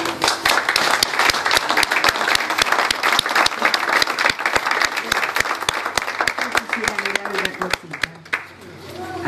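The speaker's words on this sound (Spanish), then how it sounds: "un gran aplauso para el maestro Osmar Maderna, porque los artistas les gusta que los aplaudan" Applause at a cemetery tribute to maestro Osmar Maderna, a crowd clapping loudly and steadily with sharp individual claps standing out, tapering off near the end while voices murmur underneath.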